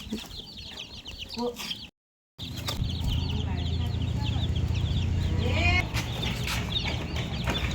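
Chickens cluck and squawk close by during a chaotic chase in a village setting, with people shouting over the birds and a brief gap partway through.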